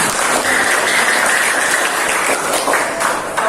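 Students applauding in a classroom, loud close clapping from a small group, sustained and fairly even throughout.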